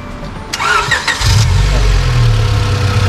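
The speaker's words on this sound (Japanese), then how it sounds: "ちょっとエンジンかけてみてもらってもいいですか。" A Honda Civic Type R EK9 with 150,000 km on its engine cranks briefly on the starter, then catches on the first try and settles into a loud, steady rumble up close.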